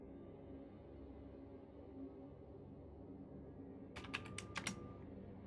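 A quick cluster of keystrokes clatters on a computer keyboard, a handful of crisp taps arriving near the end over a low, steady background hum.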